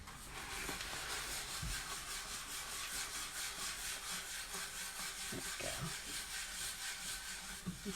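A tough, well-used brush scrubs a scratched surface in swirls, giving a continuous faint rhythmic scratchy rubbing that holds steady throughout.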